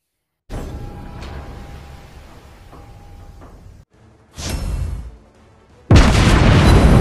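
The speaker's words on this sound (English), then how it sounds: "show you guys the testing of the SAP shells against every tier 5 battleship in the game" Naval gunfire from a battleship game as SAP shells are fired at a tier 5 battleship. A deep boom is followed by a rumbling tail, then a second blast and a sharp, loud impact near the end.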